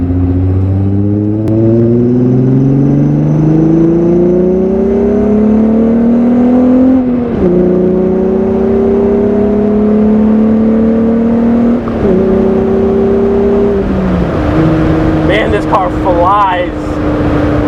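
An all-motor VR6 car engine pulls hard through the gears from inside the cabin, loud rising revs climbing steadily, brief dips at each upshift, then building again with a throaty tone.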